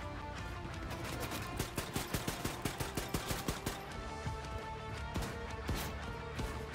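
Gunfire in Wolfenstein The New Colossus, a rapid run of sharp automatic shots at a steady rhythm, with scattered single bursts before and after it, all set against a constant game background.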